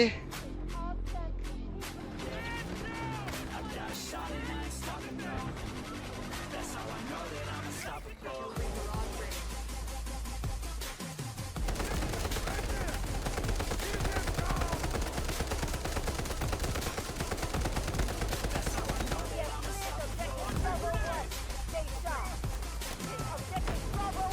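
Gunfire in the Delta Force video game, with dense bursts of rapid automatic fire and single shots layered over game music. Someone talks excitedly throughout.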